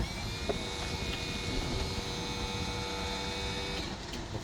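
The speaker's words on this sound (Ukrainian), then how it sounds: "Гідроборт працює без проблем." The hydraulic tail lift of an Iveco Daily truck runs with a steady mechanical drone and whine under faint clicks, with no voices.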